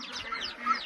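A hen that has just started laying gives a few soft, close clucks in a short burst, alone with no talk.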